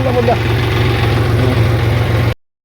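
A village tractor engine has just been started and idles close by in a steady low throbbing chug, with a voice briefly heard at the start before it cuts off.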